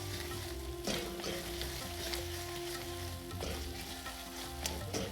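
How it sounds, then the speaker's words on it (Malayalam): Chili powder sizzles and fries steadily in a hot pan for a lemon date pickle, with soft scraping stirs now and then, and no talk. "മുളക് പൊടി ചേർത്തതിന് ശേഷം നന്നായിട്ട് മൂപ്പിക്കണം"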